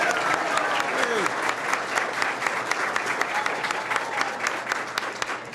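Embassy staff in Havana applaud, a steady crowd of sharp individual claps close and loud throughout, with a brief voice passing faintly underneath early on.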